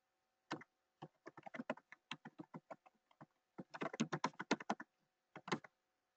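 Bursts of crisp keystrokes on a computer keyboard as a form name is entered, a quick run of clicks, a pause, then a denser flurry and a few final taps, close and alone.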